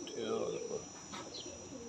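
Breeder pigeons coo softly in a loft, a low murmuring coo with faint chirps and a steady hiss behind, close by and moderate in volume.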